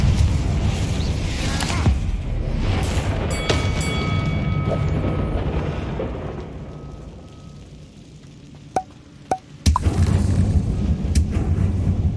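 Incendio and Confringo fire spells in Hogwarts Legacy roar as a sustained fiery rumble, then a few sharp cracking bursts follow and a loud blast erupts near the end.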